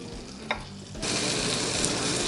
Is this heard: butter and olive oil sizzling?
yes